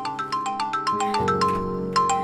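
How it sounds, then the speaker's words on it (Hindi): A phone ringtone plays alone, a bright repeating electronic melody of quick pulsing notes over a steady tone, close and clear. "फोन किसका है?"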